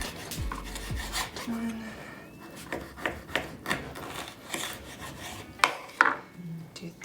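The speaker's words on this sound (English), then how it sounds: "We're just gonna cut that into thirds." A knife cuts an ingredient into thirds for a strawberry mint Moscow Mule, giving close, rasping strokes against a board with a few sharper clicks and knocks in an uneven rhythm.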